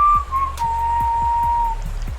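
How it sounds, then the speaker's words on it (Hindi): A long, steady whistle tone for a Hindi audio drama, cutting through silence as a sound effect, held for over a second over a low rhythmic background pulse. "फिर सन्नाटे को चीरती हुई एक सीटी की आवाज उभरी"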